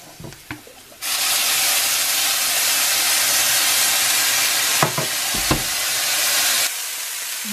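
Tempeh fries in a hot pan, a loud, steady sizzle erupting as soy sauce hits it, with a couple of brief clatters partway through before the hiss drops away near the end.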